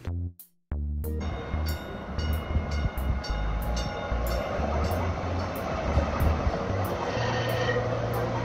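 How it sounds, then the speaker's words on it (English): Light rail train in motion, opening with a brief chime then a steady rumble and rhythmic clickety-clack of wheels over rail joints, close and continuous with no talk. "I took the light rail link back north."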